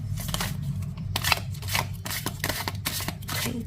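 A deck of tarot cards shuffled by hand, giving a steady run of crisp riffling and flicking clicks, close and fairly loud, with no talk.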